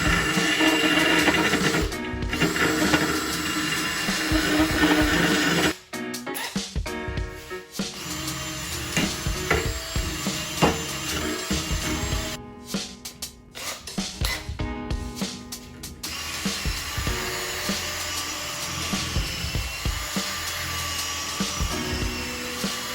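A Toyota Land Cruiser HZJ105 trailing arm bush housing is cleaned up with sandpaper, continuous loud close abrasive whirring with uneven surges and short breaks over about twenty seconds, no talk.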